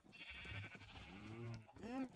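Minecraft sheep bleating in the video game, quiet wavering bleats rising and falling over a low background, a couple of calls in quick succession.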